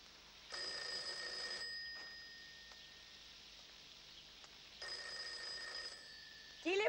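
A telephone bell rings in two separate bursts with a pause between, each a bright, buzzing trill heard fairly close in a quiet room.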